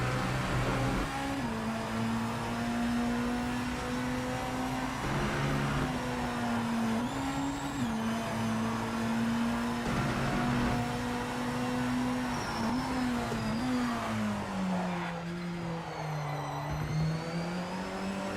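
BMW V8 Hybrid M LMDh hypercar in the Project Motor Racing game, its V8 engine droning loudly and continuously, pitch rising and falling through gear changes and corners, with no talk.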